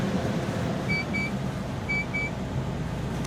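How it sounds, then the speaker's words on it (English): A truck's seatbelt warning chimes in two pairs of short electronic beeps over the steady hum of the cab and engine. "But unexpectedly, there's an alarm going off."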